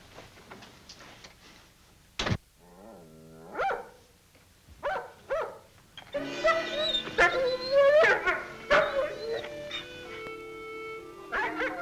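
A dog barks, yips and whimpers in a drama scene, sharp isolated barks early giving way to a denser stretch of excited whining and barking over background music.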